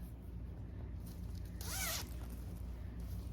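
A zipper on a handmade sewn bag is pulled once in a quick, close rasping zip. It is fairly faint against a low steady room hum.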